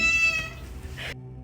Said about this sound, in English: Josh, Can we please, Mike, hear that cat breed sound one more time?